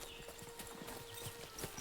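A horse's hooves clip-clop at a steady walking pace in the medieval video game Kingdom Come 2, a quiet, even string of hollow hoof falls with no talking.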